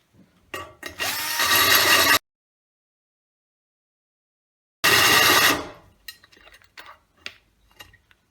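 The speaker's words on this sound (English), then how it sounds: "start rotating the drill at a bit of an angle rather than perpendicular until I feel it break out at one point" A drill with a carbide holesaw grinds through ceramic tile, starting with two sharp scrapes into a loud gritty burst, falling silent, then another harsh burst tailing into scattered clicks and rattles.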